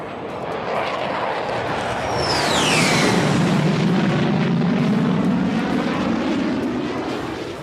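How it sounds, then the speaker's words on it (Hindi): A military jet roars loudly overhead during an Indian Air Force exercise featuring aircraft such as Rafale, Sukhoi, Jaguar and MiG-29. The roar swells and fades steadily, with a descending whine as it passes. "इस युद्धाभ्यास में वायुसेना के Rafale, Sukhoi, Jaguar, मिग-29, Apache, Chinook जैसे एयरक्राफ्ट अपना दमखम दिखा रहे हैं।"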